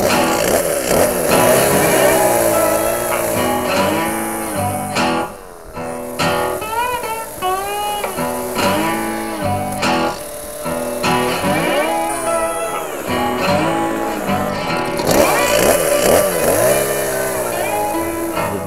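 A chainsaw engine revs up and down repeatedly, loud and close, its pitch sweeping as the saw bogs and races without pause.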